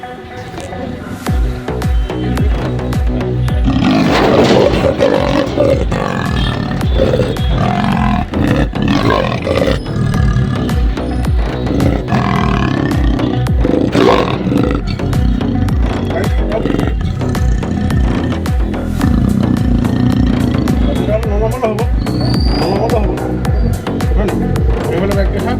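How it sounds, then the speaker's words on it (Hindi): A roughly four-year-old female leopard trapped for days in a forest department cage in Jorhat roars and growls loudly and repeatedly, close by, with harsh rumbling calls through most of the stretch and human voices mixed in. "तेंदुआ 3 दिन पहले जोरहाट वन विभाग द्वारा लगाए गए पिंजरे में फंस गया था।"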